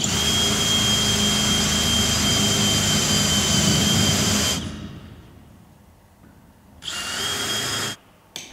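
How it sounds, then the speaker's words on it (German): A power drill bores mounting holes through a stainless steel door threshold during a Viessmann TECTO installation, a loud steady whine for several seconds, then silence and two shorter bursts of drilling. "Dann werden die Befestigungsbohrungen oben und an der Vorderseite gebohrt."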